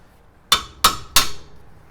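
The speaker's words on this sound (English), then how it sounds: "let me see if I can get these off with 3 taps" Three sharp, close metallic hammer taps in quick succession, loosening the brake caliper bolts on a Mercedes E320 during a rotor replacement, each strike ringing briefly before the next.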